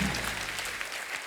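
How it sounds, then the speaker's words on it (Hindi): A short, dense burst of audience applause for four guests on a talk show, steady and close throughout. "जोरदार तालियां हो जाए हमारे चारों मेहमानों के लिए।"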